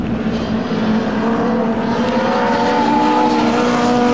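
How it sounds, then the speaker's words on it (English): Historic Formula Junior race cars, front- and rear-engined, roar past at Snetterton heading into a corner, their loud, rasping engines overlapping in a continuous drone throughout. "See cars coming through going into Palmer"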